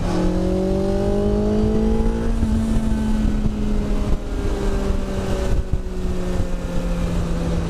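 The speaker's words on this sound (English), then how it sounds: "So this is built with a superbike engine in it from the Suzuki Hayabusa" A loud car engine, a Generation 1 Suzuki Hayabusa superbike engine fitted in a car, drones steadily nearby, its pitch shifting gradually as it revs, with wind buffeting the microphone throughout.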